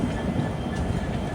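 A train pulls into Guwahati railway station in Assam, a continuous low rumble of railcars and wheels on track with no talking.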